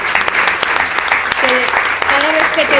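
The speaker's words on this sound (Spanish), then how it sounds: "yo quería que le diéramos un aplauso muy fuerte a Maripaz" An audience claps loudly and steadily at a book presentation honouring a departed friend, a dense continuous patter with a few voices rising over it near the end.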